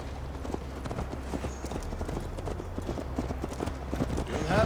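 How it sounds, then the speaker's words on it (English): Horse hooves clip-clop at a steady riding gait in Assassin's Creed Valhalla, an even, rhythmic beat at moderate distance that keeps going throughout with a low ambient bed beneath. "Mount up, Eivor. It's a long ride to Tamworth."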